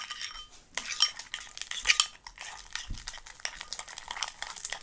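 Sticky bubblegum slime is stirred in a bowl, making soft, irregular squelching and scraping sounds, close and fairly quiet, with a couple of sharper clinks of a utensil against the bowl.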